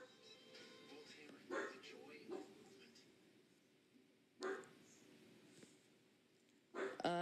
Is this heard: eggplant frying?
no